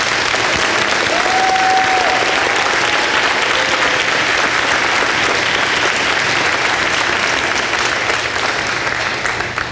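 A large audience at a National Honor Society and National Technical Honor Society induction ceremony applauds the newly inducted students, producing a loud, continuous wash of clapping that holds for nearly ten seconds before easing slightly.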